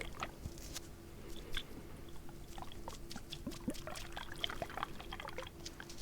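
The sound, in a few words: water swirling around, ASMR trigger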